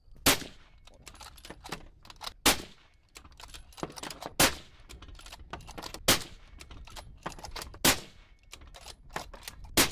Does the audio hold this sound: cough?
no